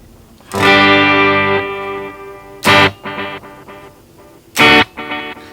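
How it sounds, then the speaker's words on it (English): Distorted electric guitar chords ring out through a stereo tape delay, each strike followed by echoing repeats bouncing between left and right that trail off, with a few sharp stabs between sustained notes. "you can really hear the stereo effect happening. So you can hear that bouncing back and forth from ear to ear."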